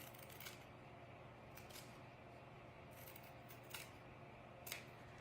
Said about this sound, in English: I'm gonna cut the flower off the backing.